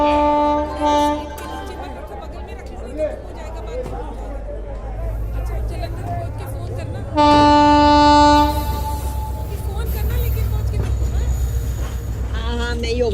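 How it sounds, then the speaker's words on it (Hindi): The Hoshiarpur Express pulls into platform 2 at an Indian station with a low, steady rumble of rolling wagons, then a loud, sustained horn blast midway, while people chatter faintly on the platform. "रवाना होने वाली गाड़ी संख्या 1401 होशियारपुर एक्सप्रेस प्लेटफॉर्म क्रमांक 2 पर आ रही है।"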